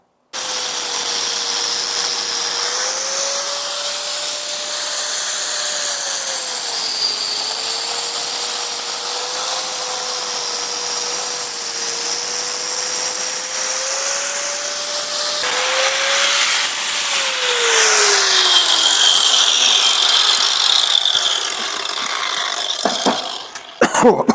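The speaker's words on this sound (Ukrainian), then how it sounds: "Пілю, як завжди, без пилісоса, як настоящі козаки, щоб було швидше" A power saw cuts into a wall for lighting wires, without a vacuum, a loud steady whine that holds for over twenty seconds, its pitch dipping slightly under load before it spins down.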